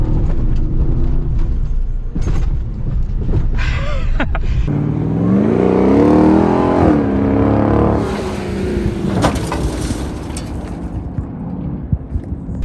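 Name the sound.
custom Ram TRX truck driving over a small jump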